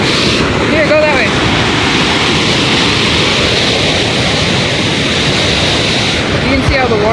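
Water roars continuously at a waterfall in Mexico, a loud, dense rushing wash as the flow is sucked in, steady throughout with no break.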